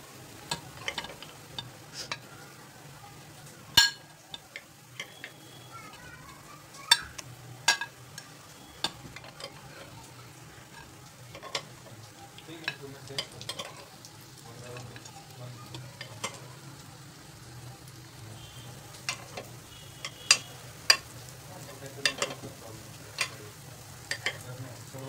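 Oats appe fry in an appe pan with a soft, steady sizzle, while scattered sharp clicks and taps of a utensil come through at close range.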